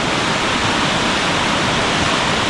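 A flooded river near Danao, Cebu, rushes in a loud, dense, unbroken roar of high water, close and constant, with no voices.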